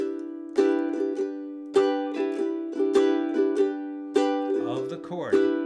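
A ukulele strums swing-rhythm jazz chords in a bright, repeated pattern, closing with a quick melodic embellishment on the last chord, played close and clean.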